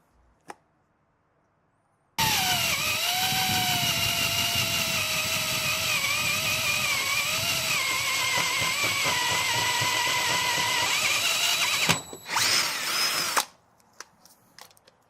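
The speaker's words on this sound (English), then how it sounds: "Now I'm going to go ahead and enlarge this hole." A power drill whines steadily and loudly for about eleven seconds, enlarging a hole in metal on a 1991 KDX200 motorcycle fork, cutting briefly, then revving again before stopping abruptly.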